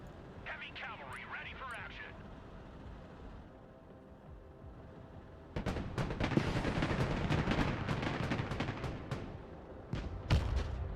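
Missile launches and gunfire in the Broken Arrow video game: heavy booming blasts and rapid crackling shots fill the second half, after a quieter stretch, with a voice talking over the action.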